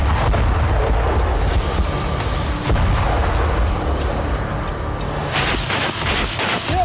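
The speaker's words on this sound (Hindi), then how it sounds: "अब बारूद से दहली सीमा" Explosions and artillery fire at the Thailand Cambodia border, a loud continuous rumble with repeated booms and blasts throughout.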